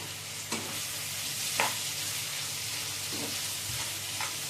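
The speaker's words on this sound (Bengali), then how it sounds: "এটা এবার একটু ভালো মতো ভাজা ভাজা করে নিতে হবে।" Chana masala and mashed potato fry quietly in a pan with a soft, constant sizzle, punctuated by a few light scrapes and taps as a spoon stirs the mixture.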